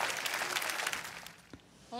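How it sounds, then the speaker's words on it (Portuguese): Audience applause at a televised show, a dense wash of clapping that fades over about a second and a half before a voice briefly takes over. "Dê uma salva de palmas."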